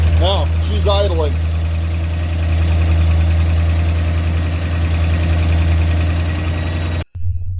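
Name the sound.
1963 Mercury Monterey engine idling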